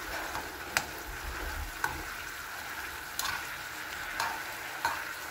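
Onions sizzle steadily in a hot frying pan for a pork chop steak dish, with a spatula scraping and stirring in several sharp, spaced strokes over the constant close frying hiss.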